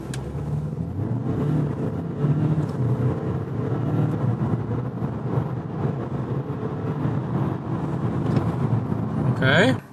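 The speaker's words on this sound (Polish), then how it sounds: "Sprawdzimy sobie teraz 0-100 bez pompowania hamulca." A 2025 Audi A5 with a 2.0 TDI diesel accelerates hard from a standstill to 100 km/h, heard from inside the cabin as a loud, steady engine and road drone that holds throughout and swells slightly toward the end.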